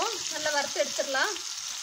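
Fish frying on both sides in a pan, a brief steady hiss of sizzling heard under a voice speaking close by.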